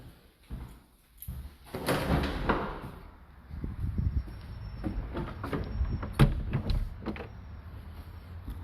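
A front door opening at the surgeon's quarters of the historic Fort Humboldt, with a few close handling clunks and latch knocks over a low background hum.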